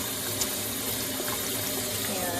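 Tap water runs steadily into a measuring cup, a close, even splashing stream of water filling the container, with no voices.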